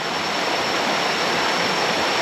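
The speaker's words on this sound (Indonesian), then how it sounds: "Kayaknya barusan selesai banjir atau apa nih ya, atau memang kondisi dari sungainya kayak seperti ini ya." Murky, flood-swollen river water rushing near a cave, a loud, dense, continuous roar with no voices.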